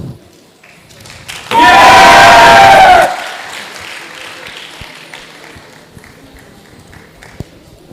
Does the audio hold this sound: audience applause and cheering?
yes